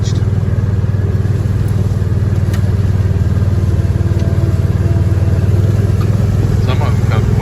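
A farm tractor towing a rake to spread manure drives back and forth across a field, its engine droning steadily and loudly throughout with a constant low rumble.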